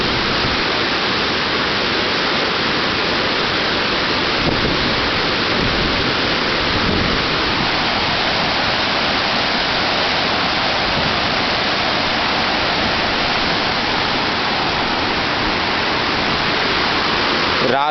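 A rushing mountain river near Tapovan roars steadily and loud throughout, a dense broadband water rush with no pauses and no voices.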